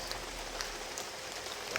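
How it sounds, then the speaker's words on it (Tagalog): Heavy rain pours steadily at night, a dense broadband hiss of drops on surfaces with scattered louder splashes, continuous and fairly loud throughout. "Umulan, sobrang lakas ng ulan ngayon"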